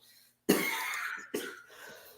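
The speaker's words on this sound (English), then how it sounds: "still battling that cough since December" A person with a lingering long COVID cough gives two harsh, close coughs, the first longer and the second following shortly after, with no talking.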